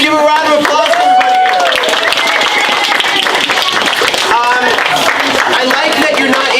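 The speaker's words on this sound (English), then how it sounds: "Guys, give a round of applause for everybody." An audience at a bookstore author event claps steadily throughout, mixed with loud excited voices and shouting that ride over the applause.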